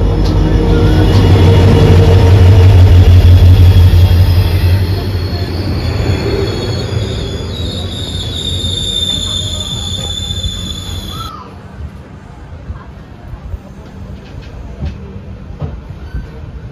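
A new LHB passenger train runs along the Konkan Railway, its wheels squealing loudly against the rails with a heavy rumble of rolling cars that peaks early, then fades as the train moves off into quieter ambient noise.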